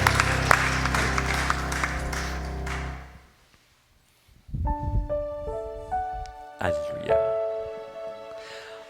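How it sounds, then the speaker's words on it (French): Applause for Marcel during a Catholic Mass, a dense wash of clapping for about three seconds that breaks off into silence, followed by organ or singing. "Même à la maison, on applaudit Marcel."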